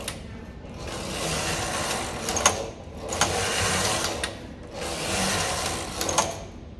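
The carriage of a knitting machine slides back and forth in three long rasping passes, each ending in sharp mechanical clicks, close and moderately loud, with no talking.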